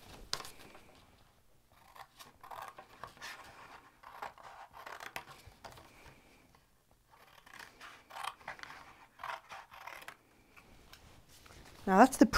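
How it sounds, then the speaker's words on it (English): Scissors snipping away the corners of a scored paper box, a series of short crisp cuts in clusters with brief pauses, close and fairly quiet, and a louder rustle of paper at the end. "And you cut away all 4 corners like this."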